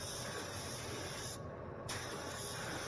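A steady, close hiss of an Aeropro A/610 spray gun applying clear coat at 30 psi runs continuously, cutting out for a brief moment before resuming.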